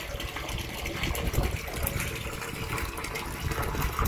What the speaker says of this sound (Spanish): Es una bomba de agua solar.